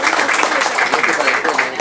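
An audience at a cooperative's ceremony applauds, a dense continuous wash of many hands clapping at once, steady and fairly loud throughout without pause.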